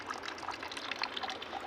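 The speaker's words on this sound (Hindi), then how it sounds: "और इधर देखो थोड़ा थोड़ा पानी आता है यहाँ से।" A thin trickle of water runs from a small village stream where water is collected for cows, a faint, steady splashing flow.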